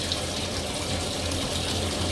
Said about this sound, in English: I want to let it run just a minute longer, so that way when the water spurts out through the holes